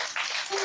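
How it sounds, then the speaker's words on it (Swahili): A church congregation clapping in praise during a sermon, a short burst of dense hand claps that rises after a brief lull and carries on to the end. "Yesu makofi."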